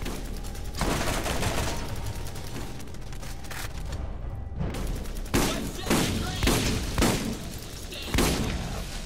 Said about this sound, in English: are these guys here that are firing at us?